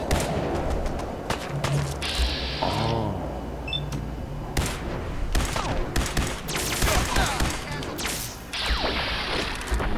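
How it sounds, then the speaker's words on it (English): Rapid, dense gunfire from the Fallout PC game, with bursts of shots, cracks and crashes filling the whole stretch, loud and continuous with brief tonal game effects between volleys. "Oh, good shooting, Heather."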